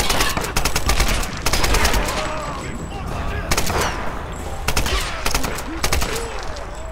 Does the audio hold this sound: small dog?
no